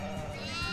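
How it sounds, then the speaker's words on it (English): A sheep bleats in the video game Shadows over Loathing, a short wavering cry set against steady background music. "Sheep?"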